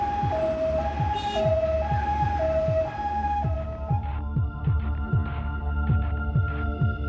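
An ambulance siren alternates between two pitches for a few seconds over the throbbing rumble of the vehicle's engine as it speeds along, then cuts out while the engine keeps droning.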